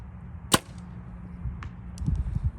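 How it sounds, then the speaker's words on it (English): Arrows fitted with vanes flying past overhead at 80 yards on an outdoor range, a sharp crack followed by brief faint whooshes, then low rumbling noise. "hopefully the phone will record not the sound from the bow, but the sound from the arrows passing over"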